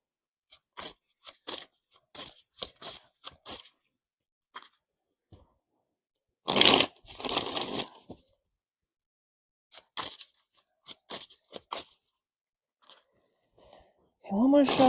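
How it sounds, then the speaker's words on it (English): Tarot cards shuffled in bursts of crisp riffling and snapping, close and dry, scattered across a quiet room with short pauses between passes. "let me shuffle first"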